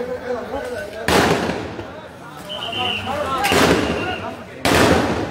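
Sound grenades explode during street clashes between protesters and authorities in Sylhet. Several sharp, loud blasts go off at irregular intervals, with crowd noise and chatter filling the gaps between them.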